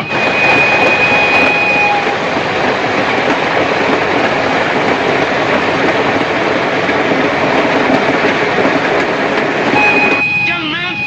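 A train runs along rails in a 1949 western film, giving a loud, unbroken rumble with rhythmic wheel clatter throughout.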